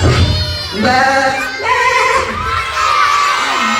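A goat's high, wavering bleat with strong harmonics, repeated in a few quick bursts against a noisy background, loud and close.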